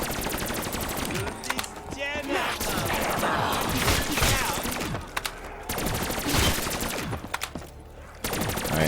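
Sustained rapid automatic gunfire from a Black Ops 3 Zombies game, loud and nearly continuous as ammo is emptied, broken by brief pauses and a few separate bursts.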